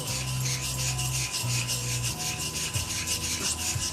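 A Thiers Issard 5/8 round straight razor is honed in circles on a wet stone with slurry. A steady, close scraping rub continues without break, with no talk.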